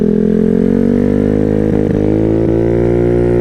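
A modified Honda Ruckus scooter, built for 70 mph, drones loudly and steadily at speed, with a few short throttle blips partway through and no talking.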